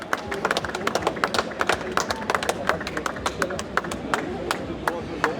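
An audience claps for a rum producer winning two gold medals at the General Agricultural Competition awards at the Salon de l'Agriculture, with many dense, overlapping hand claps in a sustained, lively round of applause.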